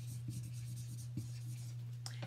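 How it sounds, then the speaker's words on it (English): Marker writing a product name on a Mylar storage bag, a few short quiet scratchy strokes close by over a steady low hum, with no talk. "Let me go ahead and write it down."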